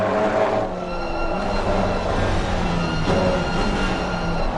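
An Alpine GT4 race car on the track at Imola, its engine a steady droning hum with sustained tonal harmonics, moderately loud and continuous, with no voices.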